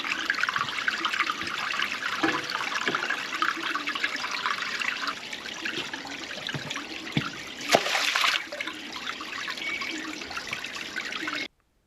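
Water runs steadily through a cleared pub kitchen drain, a continuous trickling gush with a few splashes and a brief louder surge, heard close up with no talk.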